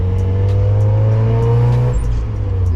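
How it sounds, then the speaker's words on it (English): Mazda Miata exhaust while driving with the top down: a loud, steady droning engine note with strong low harmonics that holds, then eases off near the end, alone without talk. "the sound, the quality of the audio coming from that exhaust right now is just,"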